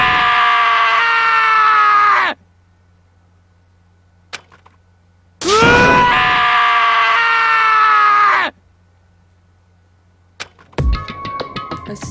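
A character named Taka in the video game Danganronpa screams in two long, loud, wavering bursts separated by near silence, with a sharp click and a short ringing electronic tone near the end.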